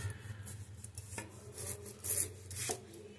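A knife cutting through a potato in a home kitchen: a few quiet scraping, chopping strokes on a board, close and soft, with no talking.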